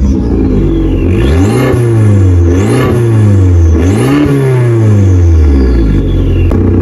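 Abarth Competizione with its exhaust valve closed, revving loudly in three repeated rising-and-falling blips, each climbing then dropping back, close and alone with no talk.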